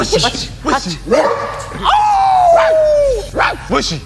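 A dog gives short yips and barks, then a long drawn-out whine, with a person talking in between.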